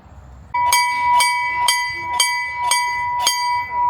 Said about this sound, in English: Ringing the bell, saying that it's time for school.